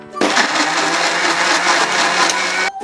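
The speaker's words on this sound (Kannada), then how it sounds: "ಮಿಕ್ಸಿ ಜಾರಿಗೆ ಹಾಕ್ಕೊಂಡು ಸ್ವಲ್ಪ ರುಬ್ಕೊಳ್ಳುವ" An Indian mixer grinder jar grinding tomato, green chillies and ginger gives a loud, steady whirring roar that runs unbroken for about two and a half seconds and then cuts off, with no voices.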